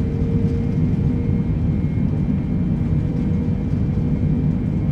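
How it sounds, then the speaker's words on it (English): A Boeing 747 in a flight simulator game rumbles loudly and steadily with reverse thrust braking after touchdown, a dense low roar with a faint whining tone and no speech. "I'll do reverse thrust braking."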